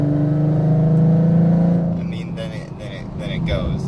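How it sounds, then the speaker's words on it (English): A 2013 Ford Mustang V6 drones loud and steady at full throttle for about two seconds, its engine note holding a firm low pitch before dropping away as a voice takes over. "if I were to full throttle it,"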